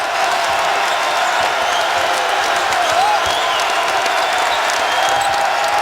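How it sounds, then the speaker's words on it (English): A college basketball arena crowd roars with cheering and whoops after an Iowa basket, a loud sustained wall of noise with a few faint whistle-like shouts rising through it. "Listen to the crowd."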